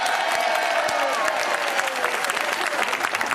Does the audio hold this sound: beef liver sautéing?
no